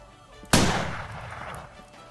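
A single sharp 7.62 rifle gunshot in the video game Arma III cracks loudly and then rolls away in a fading echo over about a second and a half.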